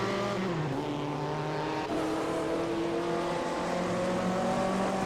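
A Vanwall race car from a 1958 Formula One racing game corners at the Moroccan Grand Prix, its engine a continuous high, buzzing drone whose pitch dips and then climbs as it works through the bend.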